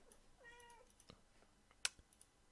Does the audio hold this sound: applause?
no